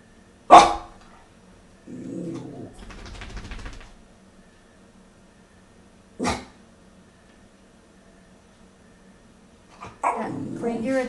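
A dog barks in a few sharp, separate bursts with pauses between, fairly close, with some growling and whimpering mixed in.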